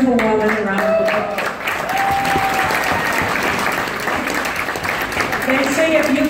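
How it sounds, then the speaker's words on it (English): Sustained applause from an audience for a first grade teacher of 43 years, dense steady clapping filling the room with a few voices and musical tones heard faintly underneath. "Will you give this beautiful woman a round of applause?"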